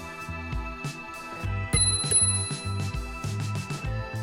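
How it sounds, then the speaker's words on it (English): A bell on a USIE T1 Pro full-suspension electric scooter is struck repeatedly in quick succession, bright ringing dings close to the microphone with short gaps between them. "And a piercing bell."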